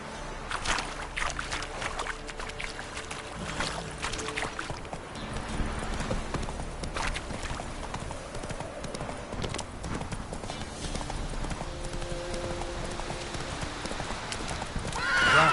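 Horse hooves clip-clop steadily at a gallop in The Witcher 3 on PS4, with occasional whinnies over a busy game soundscape of music and ambience throughout.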